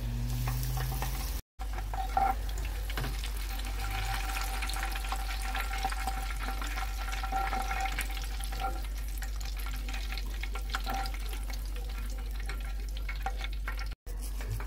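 Peppers frying in oil beneath a Magic Cooker lid, a dense continuous sizzle with faint crackles, steady and fairly close for the whole stretch.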